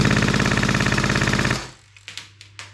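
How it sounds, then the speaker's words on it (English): An airsoft gun fires a full auto burst of about a second and a half, a fast, even stream of close, loud shots cutting off sharply, followed by a few scattered faint clicks. "We'll give that a quick burst of full auto."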